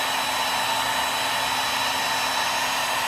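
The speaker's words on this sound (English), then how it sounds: "I'm going to hit it with the hairdryer again." A hair dryer blows continuously with a steady, loud whooshing hiss and no talking.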